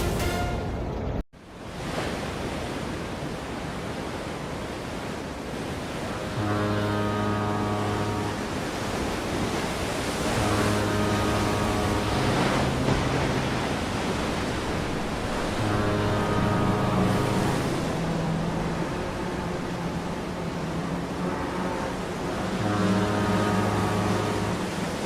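The icebreaker Aurora Australis in a force 9 gale on its way to Antarctica, with a continuous roar of wind and crashing waves and recurring tonal notes over the noise.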